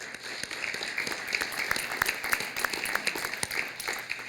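Moderate applause from a crowd, steady scattered clapping for about four seconds with a faint hum underneath.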